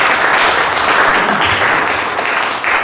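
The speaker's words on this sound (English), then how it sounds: "Let's give a big round of applause for" An audience gives a loud, dense round of applause, continuous clapping from many people throughout with no talking.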